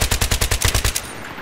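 A SCAR-L assault rifle fires a rapid burst of about ten loud, evenly spaced shots in a video game firefight, followed by a short fading tail.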